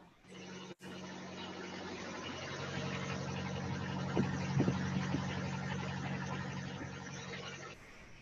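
Kubota tractor diesel engine running at a steady idle, a continuous low hum close by with a sharp knock near the start and a slight rise in level midway.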